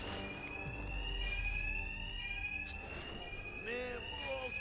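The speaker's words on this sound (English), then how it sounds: "Attacks will be covered by the noise of the alarm." A fire alarm rings in a steady, piercing electronic tone that continues unbroken throughout, with voices talking over it and some background clatter.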